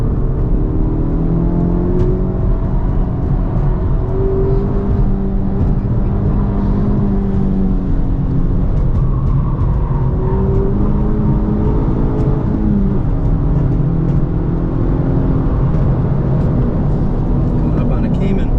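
A 2023 Honda Civic Type R is driven around a race track, its engine droning loud and continuous from inside the cabin, rising and falling through gear changes while the driver talks over it.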